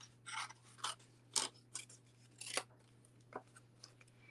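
Scissors trimming paper around an ornament picture: a series of crisp, close snips and rasping cuts in an uneven rhythm over a low steady hum, with no talking.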